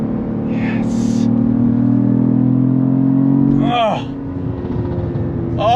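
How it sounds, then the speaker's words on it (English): A Cadillac CT4-V Blackwing sedan with the GM Performance exhaust revs hard toward redline, a loud steady engine roar that drops off sharply near the end, with people talking excitedly over it. "it sounded like a machine gun just went off behind me. That was the freaking GM Performance exhaust."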